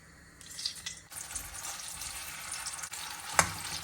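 Sweet potato pulp sizzling in hot ghee for a halwa, a soft steady frying hiss with faint stirring and a brief sharp clink near the end, heard alone at low volume.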